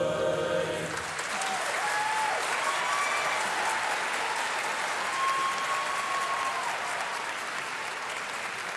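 Sustained applause from a graduation ceremony audience for the WYHS Choir, a steady dense wash of many hands clapping at a moderate distance, with faint cheers and tonal whistles rising briefly above it.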